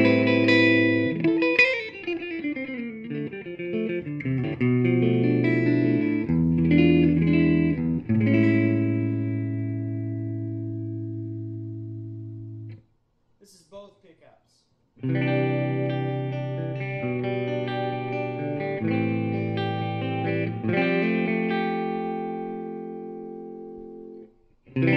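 An electric guitar played through a Fender Deluxe Reverb Reissue amp with treble at seven, bass just past six and light reverb, ringing clean sustained chords and notes in two long phrases separated by a brief pause.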